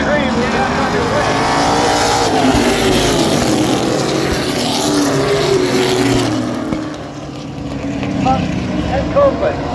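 CRS Truck Series race trucks accelerating off the start at Sandusky Speedway, a loud roaring pack of engines rising and sweeping past, with a commentator talking over the noise.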